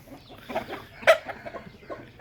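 A breeding hen from a Thai fighting-cock line clucks in a quick series of short, close clucks, with one sharper, louder cluck near the middle.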